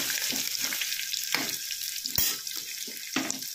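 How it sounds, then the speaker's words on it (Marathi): Curry leaves crackle in hot oil with a bright, continuous sizzle. Sharp pops and a few clicks of a stirring spoon break through it close by. "आणि कढीपत्ता। थोडं परतवू"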